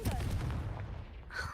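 Confringo fire spell blast in Hogwarts Legacy: a loud booming impact that rings out and decays over about a second, closing with a brighter crackling flare.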